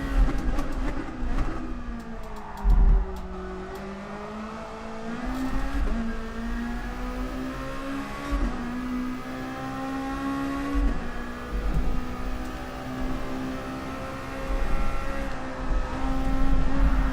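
Race car engine in GT Sport at Dragon Trail Seaside, a Lexus, revving and climbing through gears with repeated upshifts, a steady loud whine rising and dropping over about seventeen seconds, with faint brief tyre or passing noises.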